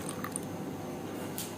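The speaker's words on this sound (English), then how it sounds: "transfer my cucumber into my grated soap" Blended cucumber is poured into grated soap, giving a soft, wet squishing and slopping that runs steadily through the short moment and stays faint and close.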